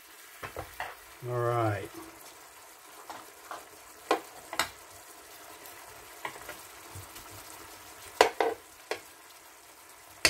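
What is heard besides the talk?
sauce cooking down in a pan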